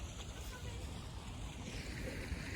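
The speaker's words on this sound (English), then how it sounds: "So we got some water rushing here, right here." Water rushes at a waterfall in Algonquin Park, a steady broadband roar mixed with wind buffeting the microphone, with no talk.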